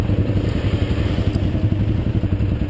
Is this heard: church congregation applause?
no